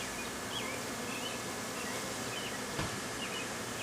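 Honey bees buzzing during a beehive inspection, a steady dense hum from many insects close around, with a faint click partway through.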